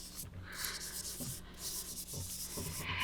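A drawing on paper is rubbed to soften it, giving quiet, repeated scratchy strokes in an irregular rhythm.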